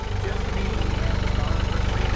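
A tractor engine idles steadily in a cold Alaskan morning setting, producing a close, even low rumble with a fast regular thumping pulse throughout and no voices.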